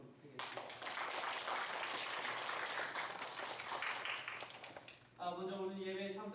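A church congregation applauds to welcome visiting guests during a service, a steady burst of clapping lasting about five seconds before a voice begins speaking.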